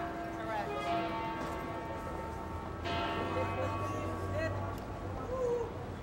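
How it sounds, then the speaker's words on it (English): Church bell ringing in Rome, a series of resonant metallic strikes with long ringing tails, heard outdoors amid city ambience with people talking in the background. "With the bell ringing."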